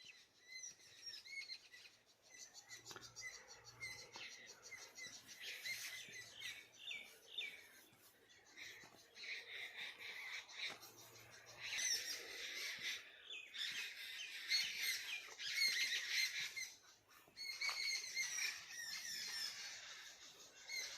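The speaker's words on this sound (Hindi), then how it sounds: "सुन पा रहे होंगे पक्षियों की कोलाहल।" A busy chorus of birds chirps and squawks across morning farm fields, with overlapping calls rising and falling continuously, growing denser and louder toward the middle and later part, with no talking.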